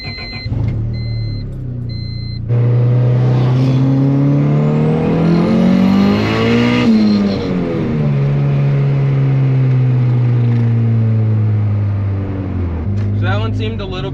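Turbocharged D16 engine with a built setup at 25 psi, heard from inside the car as it fires up and pulls hard. Loud droning that rises and falls through the revs, with voices faintly underneath.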